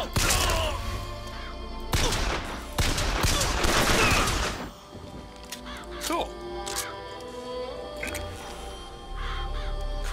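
Murderous crows summoned in the video game Bioshock Infinite caw and flap through heavy gunfire bursts, loud and dense at first, then thinning into scattered cries and shots with speech mixed in.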